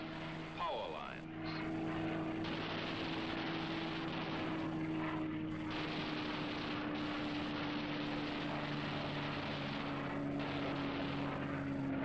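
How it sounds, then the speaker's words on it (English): World War II fighter planes skim low at maximum speed on a strafing run, their engines making a steady, loud droning roar while a narrator speaks over it. "Skimming along at maximum speed, the fighters pair off"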